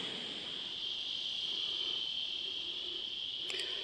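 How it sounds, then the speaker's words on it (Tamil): A constant high-pitched chirring of insects rings steadily in the background, one even tone throughout, with a brief sharper click near the end. "இந்த பூச்சிகளோட சத்தத்தை கேட்குறீங்களா"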